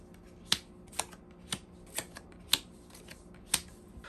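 Tarot cards are shuffled in a steady rhythm of about seven crisp riffling snaps, close and clear, with no talking.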